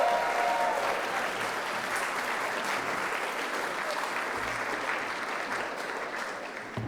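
A gala audience bursts into steady, full applause for a comedian walking on stage, a dense unbroken roar of clapping that slowly tapers near the end.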